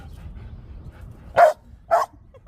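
A chihuahua gives two sharp, close barks about half a second apart over a low background hum.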